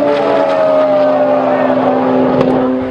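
Mitsubishi Evo X drag cars launch in a 2015 English drag race, a loud, sustained engine roar that holds steady close by and begins to fade at the end, with a voice faintly audible beneath.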